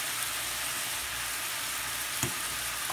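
Steak searing quickly in a hot pan for a Subway-style Philly wrap, giving a steady, dense broadband sizzle with a few brief louder crackles and scrapes, close and continuous throughout.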